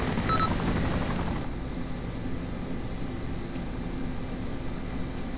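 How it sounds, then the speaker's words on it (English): Helicopter in ARMA 2: British Armed Forces, a steady loud engine drone with a rough low rotor rumble, continuous and close, holding at a constant level throughout. "Just get in the damn chopper."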